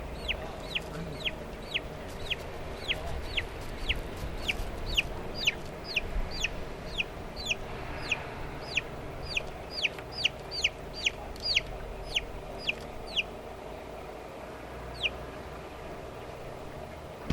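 Chickens cluck in a crowded poultry farm shed, their short sharp calls repeating in a steady stream, dense through most of the stretch, over a low constant hum of ventilation.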